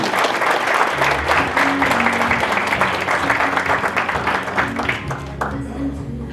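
An audience at a school district award of excellence ceremony applauds a teacher being honoured, a steady, moderately loud wash of clapping with a low hum and faint voices underneath, fading slightly toward the close.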